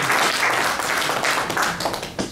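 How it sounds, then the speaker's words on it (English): Audience at a repatriation and investment business conference in a Ghana hotel clapping for a speaker, loud close-up applause with distinct individual claps that tapers off near the end. "let's give her a round of applause."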